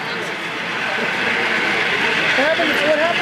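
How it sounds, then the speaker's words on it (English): A model train rolls past at a train show, a steady mechanical rumble with faint squeals near the end, heard amid the busy background noise of the hall. "Immediately after, here comes another train."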